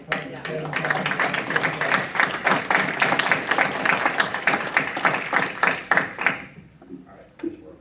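A room at a school board of education meeting breaks into a round of applause, moderate hand clapping lasting several seconds before fading into quiet.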